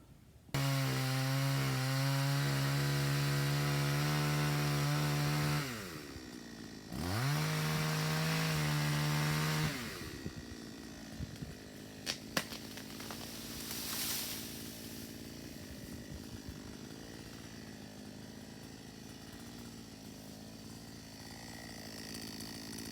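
A chainsaw felling trees on a homestead, a loud steady buzzing cut that dips and resumes, then gives way to lower rough sawing and crackling wood sounds, close with no talk.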